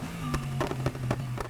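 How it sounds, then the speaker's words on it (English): A BMW M4 with straight-cut gears in Need for Speed Heat spits exhaust pops and bangs: a run of sharp, loud cracks in quick irregular succession over a low engine drone, with no talking. "The pops and bangs are so ridiculous"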